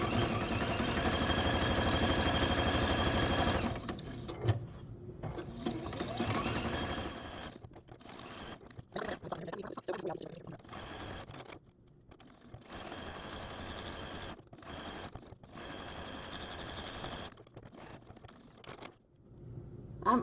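A sewing machine stitches appliqué tree trunk pieces for a quilt block, running in a long steady whir and then in short start-stop bursts with pauses between.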